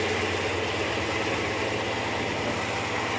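An Olds 442 with an LS engine swap and a quiet exhaust idles just after a hot start, giving a steady, close, even low rumble with a faint vibrating hum and no voices.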